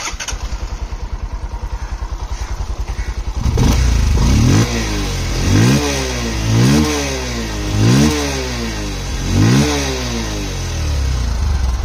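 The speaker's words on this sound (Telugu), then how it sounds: "గైస్ ఈ బైక్ ఒక ఎగ్జాస్ట్ నోట్ అయితే ఒకసారి వినండి." A Bajaj CT 125 X motorcycle engine runs nearby, first a rapid steady idle thump, then a louder exhaust note rising and falling through several repeated revs.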